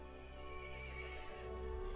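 A horse whinnies in the video game Resident Evil Village over a steady low rumble and wind-like noise, the neigh rising and wavering without any talking.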